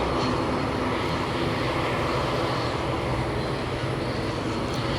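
A UPS cargo airplane roars past overhead at an airport spotting location, a steady, broad, loud engine rumble filling the whole stretch with no pause.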